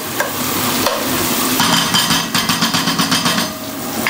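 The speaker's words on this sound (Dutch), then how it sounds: "Kijk, dit is al aan het bakken" Busy sizzling and crackling of food frying in a pan, with some stirring and clinking of utensils, loud and close, no talking.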